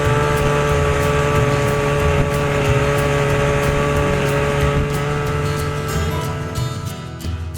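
An Evinrude 40 outboard motor with a fuel-related problem runs at a steady idle, a loud, continuous droning hum with a rough, pulsing texture that tapers slightly near the end.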